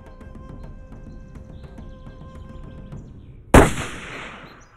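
A hunting rifle fires once at a Nyala bull in African brush, one loud sharp crack with a short echoing tail after a quiet stretch of low background hum.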